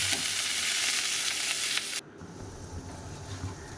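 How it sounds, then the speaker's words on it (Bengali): Okra and potatoes fry in oil in a wok, giving a loud, dense sizzle that suddenly drops to a quieter crackle partway through, with faint stirring underneath. "ঢেঁড়স আর আলুটাকে ভেজে নেব।"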